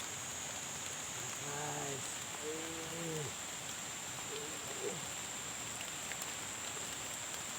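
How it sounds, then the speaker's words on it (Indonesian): Steady rain hissing across a wide area during outdoor wader fishing, with a brief spoken word from a person partway through. "Hujan guys."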